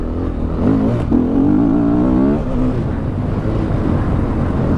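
A 2016 KTM 500 EXC enduro motorcycle engine revs hard, its loud, rising and falling pitch swelling up close, then settling into a steady rumbling idle.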